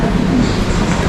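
A passenger train rolls along in Russia, heard from on board as a loud, steady low rumble with constant rattling.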